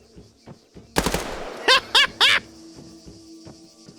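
Gunfire from an online shooter video game: a loud burst of several rapid shots, then three short, sharp bursts spaced evenly, over quieter background game noise.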